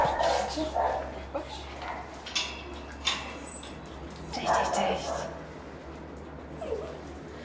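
A mother dog and her puppies whimper and give a few high yips and short barks in a shelter setting, scattered and intermittent, with a person talking over them.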